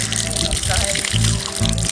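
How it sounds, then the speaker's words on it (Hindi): Water gushes and splashes from a village hand-pump tap close by, and someone talks over the flow the whole time. "ये देखें गांव का नलका, गांव में ऐसे पानी आता"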